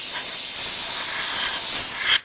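An aerosol can of throttle body cleaner sprays down into a car's throttle body in one steady, close, loud hiss that stops abruptly near the end.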